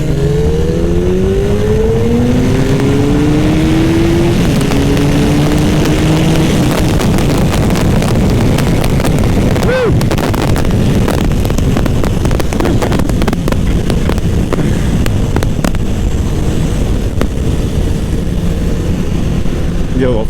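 Hayabusa or CBR929 sport motorcycle engine revving up in second gear and bouncing off the rev limiter, a loud rising engine drone with wind buffeting the microphone throughout, and a voice briefly audible.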